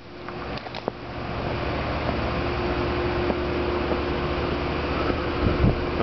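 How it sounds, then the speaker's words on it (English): A home-built generator runs outdoors during a neighborhood power outage, a steady droning hum with a faint tonal whine and occasional small clicks, continuous and fairly close, with no speech. "And there's the trusty generator."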